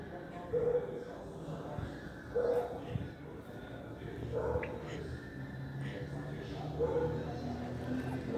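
A small puppy whimpers and yips in short, high bursts that recur every couple of seconds, close by against a low background.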